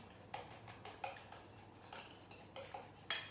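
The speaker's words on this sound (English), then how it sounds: "We'll continue mixing this until it is all frothy." A whisk beats an egg mixture in a bowl until frothy, producing faint, irregular metallic clinks and taps against the sides with no talking.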